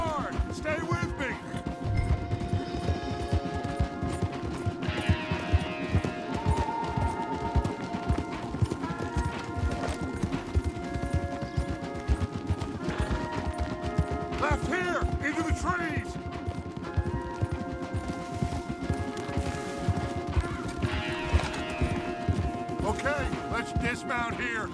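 Horses galloping in the video game Red Dead Redemption 2, a steady stream of hoofbeats with dense clip-clop rhythm running throughout, loud and continuous under music and voices talking.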